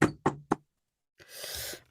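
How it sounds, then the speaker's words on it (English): Three sharp knocks on a door in quick succession, close and distinct, followed by a pause and then a louder burst of broadband noise. "Okay, knock again."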